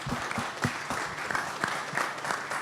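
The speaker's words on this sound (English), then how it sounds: "Yeah, they deserve a round of applause for that." Scattered audience clapping after a book panel discussion, fairly quiet, with individual claps audible in an uneven rhythm from a modest crowd.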